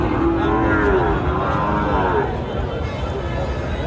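Cattle low at a busy rural livestock market (haat), a long loud moo drawn out near the microphone over a dense crowd murmur and the general bustle of the market.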